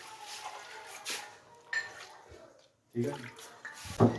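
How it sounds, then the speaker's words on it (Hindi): Water pours into a homemade curry in bursts, splashing and sizzling briefly against the hot pan between short pauses, close and fairly faint, while a person talks. "तो ये हम डालेंगे पानी"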